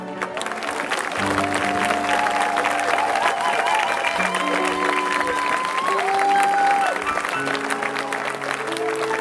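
A congregation at a church worship service claps to acclaim Jesus, a steady sustained applause mixed with held musical notes and some voices.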